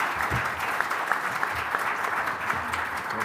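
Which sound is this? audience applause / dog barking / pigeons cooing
audience applause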